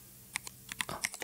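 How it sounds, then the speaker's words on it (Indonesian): Laptop keys tapped in a short burst of about eight light, separate clicks, close and fairly quiet, with no talk over them. "nih saya ketik-ketik lagi di sini"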